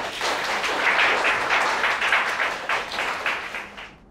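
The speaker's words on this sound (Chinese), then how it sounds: "大家掌声鼓励。" A classroom of students applauding a classmate whose lyrics were chosen for the school song, dense steady clapping from many hands that fades out near the end.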